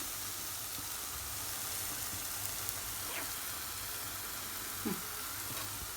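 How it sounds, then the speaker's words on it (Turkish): Steady, dense sizzling of lokma dough frying in hot oil, a continuous crackling hiss with occasional small pops. "Şu şekilde kızgın yağda kızartıyoruz."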